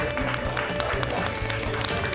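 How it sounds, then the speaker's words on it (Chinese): Contestants on a Chinese legal talent show clap for themselves after a debate round, dense clapping over a steady hum of studio background. "都给自己鼓鼓掌吧。"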